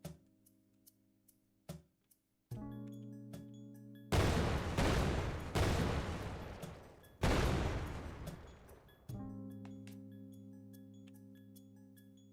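Game explosions in the in-development game Meura sound as three loud, booming blasts, each fading into a long rumbling tail, set between light ticking and sustained tonal game sounds.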